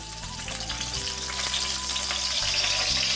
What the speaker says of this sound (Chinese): 另起锅加油，爆香一下葱和蒜